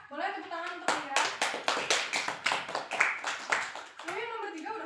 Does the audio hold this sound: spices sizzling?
no